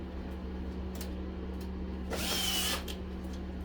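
A power drill briefly whirs while driving screws on the motor of a whole-house vacuum during a teardown, a short close burst under a steady background hum.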